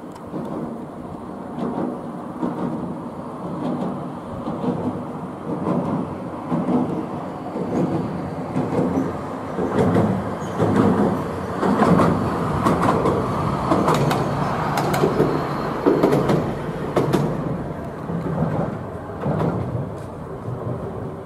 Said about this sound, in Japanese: 路面電車が単独で鉄橋を走る姿は